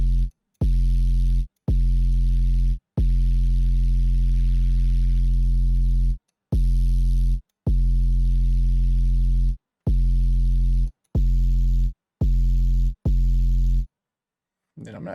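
A hyper-pop 808 bass processed with a bit crusher for a blown-speaker distortion plays loud sustained notes, repeated about a dozen times with short silent gaps. It sounds alone, with no talking.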